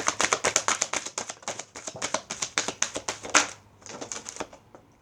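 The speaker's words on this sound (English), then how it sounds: "One more shuffle." Tarot cards being shuffled by hand, a rapid run of crisp riffling clicks and taps in quick bursts, close and fairly loud, pausing briefly before a final few flicks.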